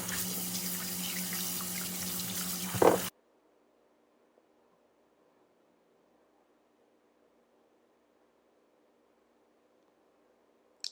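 Fresh tomatoes washed under a running tap, a loud rush of water splashing into the sink for about three seconds, then the flow cuts off to near silence.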